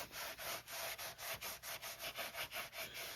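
Repeated scrubbing strokes rub grime off the cardboard of a vintage Kenner Knight Rider KITT toy box, a steady back-and-forth rhythm of about a dozen close, even swipes with no talking.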